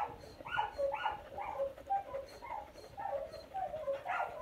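A dog whimpers repeatedly in short, high-pitched whining cries, close by, uneven in rhythm and fairly loud, with no speech over it.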